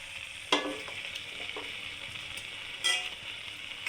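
Beef pieces frying in spiced oil in a pan for a wedding-style curry, a steady sizzle with a few sharp bursts as the meat hits the hot oil and is stirred.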